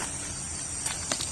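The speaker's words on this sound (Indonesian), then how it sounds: "Suaranya cuma jangkrik." Crickets chirp steadily across an open rice field, a faint high continuous trill with a few soft rustles or footsteps near the end and no talking.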